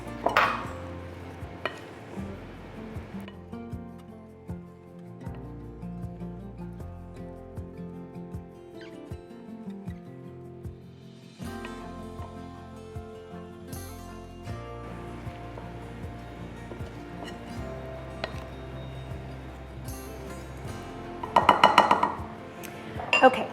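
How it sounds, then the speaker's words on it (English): White bean salad stirred in a bowl, with soft repeated clinks and scrapes of a utensil against the dish, close and fairly quiet, with a louder rattling flurry near the end. "And now I'm gonna just mix it up and try to not have anything pop out of the bowl."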